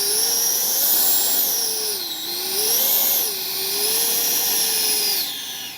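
Freewing 80mm Avanti S V2 RC jet's electric ducted fan motor whining steadily at close range, its pitch rising and falling in smooth swells as the throttle is worked over several seconds, with no talk.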